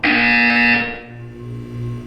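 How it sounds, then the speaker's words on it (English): A loud, steady electronic buzzer from the game Portal 2 sounds for about three quarters of a second, then cuts off, leaving a low hum and faint room tone. "When you hear the buzzer, look down at the floor."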